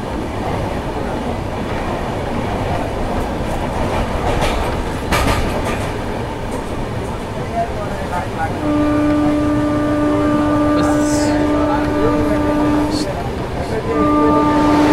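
Howrah–Bengaluru superfast express 12863 running past Chilka station, heard from inside a general coach: steady loud rumble and rail clatter throughout, with a sustained horn tone in the second half.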